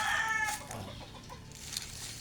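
Chickens cluck repeatedly in a home yard with fruit trees, a close, busy series of short calls with a louder burst at the start and no one speaking.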